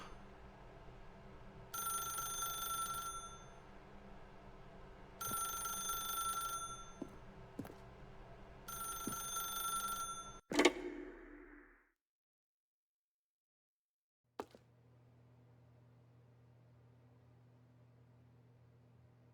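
Telephone ringing in The Stanley Parable: three long bell-like rings in steady rhythm, followed by a click as the handset lifts and then near silence with a faint hum.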